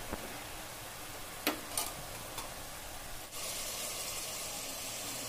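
Ground onion and tomato paste sauté in hot oil for mutton kurma, with a few sharp scraping stirs over a steady sizzle that swells louder and fuller partway through.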